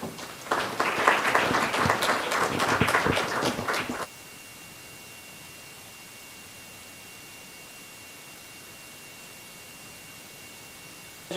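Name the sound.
audience applause welcoming a speaker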